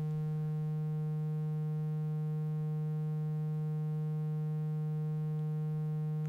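A steady, sustained triangle wave from an Erica Synths FOLD wavefolder module during calibration hums at a constant pitch, rich in harmonics, alone and unchanging throughout.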